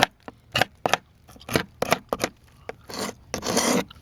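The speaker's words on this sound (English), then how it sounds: "It's a hook scraper, so you use a pulling motion. Pull it towards you." A carbide hook scraper pulled across painted house siding, giving a series of about eight close, rasping scrape strokes of uneven length, the last ones longer and grittier.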